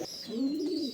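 A pigeon gives one soft, low, rolling coo close by, with a faint high background hiss.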